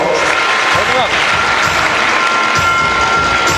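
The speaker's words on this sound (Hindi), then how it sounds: "जोरदार तालियों से स्वागत करिए दोस्तों।" An audience at a Yadav community youth festival in Ulhasnagar, Thane, claps in a dense, continuous burst of applause, loud and close, with a voice heard over it.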